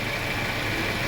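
A Mercedes-Benz CLA W117 engine with a faulty pump idles steadily and fairly loudly, an even hum with no speech.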